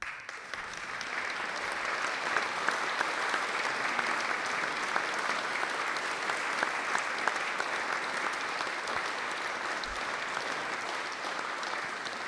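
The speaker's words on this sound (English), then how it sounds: "I want to give him a round of applause from the choir here" A church choir at Holy Saviour Bitterne applauds a departing member at his last concert, with steady, moderately distant clapping from a group sustained for about twelve seconds.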